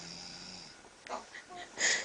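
A person snores in her sleep early in the morning, giving several wheezy, rasping breaths at close range, with quiet background voices in the room.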